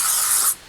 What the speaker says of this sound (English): You kind of just spray the bare minimum